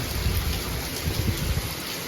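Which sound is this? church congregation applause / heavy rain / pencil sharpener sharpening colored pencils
heavy rain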